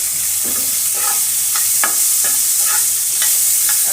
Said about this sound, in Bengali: আমি 2 মিনিট সময় নিয়ে এটা ভেজে নেব।